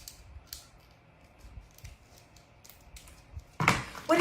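Scissors make soft repeated snips and creaks while trimming craft material for a Dollar Tree wall tile Christmas topiary. A louder burst of rustling handling comes in at the end.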